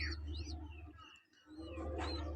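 Pigeons in their nest in a home loft, grieving after losing their chicks, give soft close-up chirps and coos that run steadily through the moment with a brief dip in the middle.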